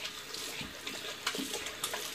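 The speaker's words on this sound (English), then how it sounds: "Rinse that hand off." Tap water runs steadily while shaving lather is rinsed off a hand at a sink, a continuous close splashing stream with a few brief louder splashes.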